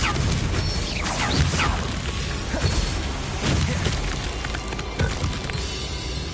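Confringo blasting spells exploding during a Hogwarts Legacy fight, with a dense run of booming impacts, crashes and whooshing effects over continuous game-battle noise, with no talk.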